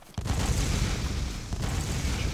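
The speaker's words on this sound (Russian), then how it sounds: "Я слышу, просто взрывы бесконечно идут." Explosions in the video game DayZ form a loud, sustained rumble of overlapping blasts that continues without a break for the whole stretch.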